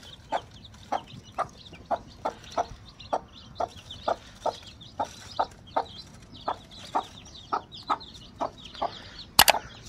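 Kadaknath hen with her chicks, repeated rhythmic clucking about twice a second, close and clear over a quiet background, ending with a sharp knock.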